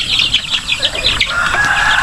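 Chickens cluck and chatter on a farm, a dense flock of overlapping calls close by with a rooster-like cry mixed in and occasional wing flutters, no voices.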